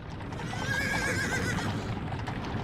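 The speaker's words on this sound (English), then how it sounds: "You hear those horses?" A horse whinnies once in a long, wavering neigh over steady outdoor background noise on historic Main Street in downtown Grapevine, Texas.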